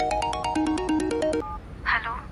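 A mobile phone ringtone plays a bright, rapid repeating melody for over a second, then stops, followed by a short voice.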